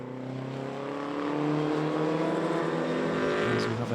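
Classic sports and saloon race cars pass on a Scottish racing circuit, their engines droning and rising in pitch as they go by at a moderate distance, a continuous layered roar without commentary.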